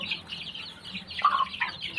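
Young hens cluck softly at a distance, scattered short calls over a faint outdoor background.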